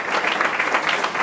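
A church congregation applauds at a unity symposium, a short burst of dense, steady clapping from many hands, fairly loud and close, with no voices over it.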